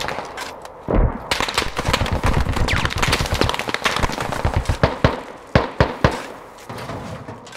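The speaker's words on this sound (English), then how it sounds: "I built a heavy machine gun" Heavy machine gun fire in the game Squad: dense bursts of rapid, loud gunshots run almost without a break, ending in a few separated heavy single shots.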